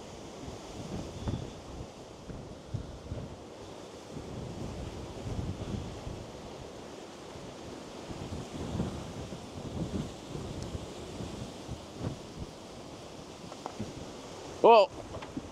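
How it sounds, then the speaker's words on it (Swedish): Strong storm wind gusting steadily at La Manga, roaring as broadband buffeting with microphone wind noise across the whole stretch, with a sharp louder burst near the end; voices are heard in places. "Oj, jävlar vad det blåser."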